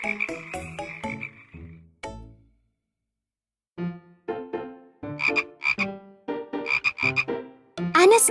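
Loud, close frog croaks come in rapid bursts, pausing briefly before a fresh series of rhythmic ribbits resumes.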